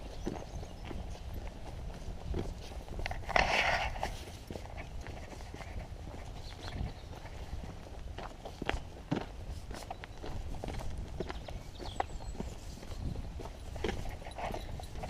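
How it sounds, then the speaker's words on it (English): A zebra-striped horse walks nearby on a rural track, its hooves giving a steady, irregular clip-clop under outdoor ambience, with one louder knock partway through. "Zebra horse."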